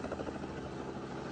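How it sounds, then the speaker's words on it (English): A steady, whirring helicopter drone with a low rotor throb, continuous and fairly close, with no voices. "what is this luxury ass helicopter that he's got?"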